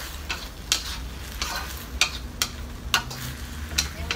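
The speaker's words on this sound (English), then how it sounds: "Stir fry lettuce, garlic." Lettuce and garlic stir-fried in a pan, with a soft sizzle under repeated sharp clicks and scrapes of a utensil against the pan, coming in a loose, irregular rhythm.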